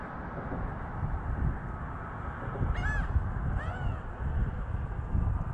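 A bird calls twice with harsh, crow-like caws at a fishing spot on a coastal inlet, the calls mid-distance over steady wind and surf-like background noise.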